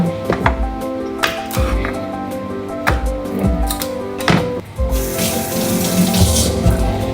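Tap water runs into a pot while chicken pho is prepared, a close splashing rush mixed with clanks and knocks of kitchenware, the flow growing fuller and hissier toward the end.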